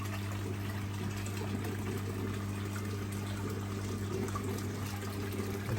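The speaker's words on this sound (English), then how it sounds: "so the trickle in is still on. Trickling in there between the mugs." Water trickles from a hose into a garden pond between mugs, a soft steady flow under a constant low hum, with no talking.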